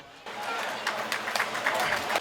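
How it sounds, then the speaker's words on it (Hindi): Audience applause at a Hindi comedy poetry gathering: a thin, fairly quiet patter of clapping that starts abruptly and continues steadily for about two seconds. "आपकी कमजोर तालियों के लिए बहुत बहुत धन्यवाद"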